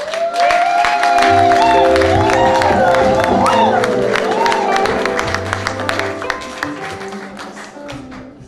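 An audience at a French-language gathering applauds and cheers as a man is called up, dense clapping with whoops and voices rising loudly at first, then gradually thinning and fading.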